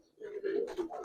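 Cooing of Giribaz pigeons at a market stall, a few low rolling coos close by with some overlapping bird murmur and faint noise.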